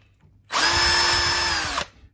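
Power drill boring a pilot hole into a guitar headstock on a Vintage V100, one loud steady burst of just over a second, alone with no talk.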